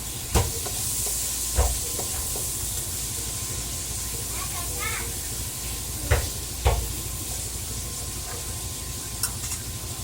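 Shiitake mushrooms sautéing in a pan alongside pan-fried chicken, a steady hissing sizzle with a few sharp knocks of a utensil, while someone talks over the cooking.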